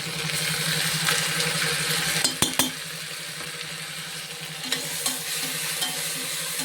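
Ginger-garlic paste frying in a pressure cooker for vegetable biryani, a constant near sizzle broken by sharp spoon knocks against the metal and a few stirring scrapes, with no voices.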